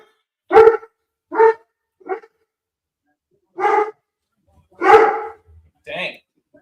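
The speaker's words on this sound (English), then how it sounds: "That dog was crazy." A dog barks loudly and close by, six separate sharp barks with irregular pauses between them, the last one higher and yelping.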